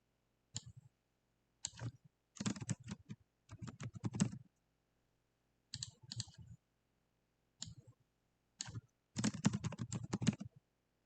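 Bursts of typing on a computer keyboard, quick clattering keystrokes in short clusters separated by pauses, close and fairly quiet with no voices.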